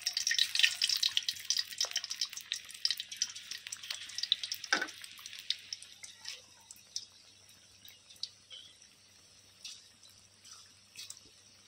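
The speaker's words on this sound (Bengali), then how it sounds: "তেলটা গরম হয়ে গেছে, এবার মাংসগুলোকে ধীরে ধীরে তেলের মধ্যে ছাড়ছি।" Chicken pieces for Bengali chili chicken hit hot oil in a pan, and a loud crackling sizzle fades over several seconds into sparse pops and spits.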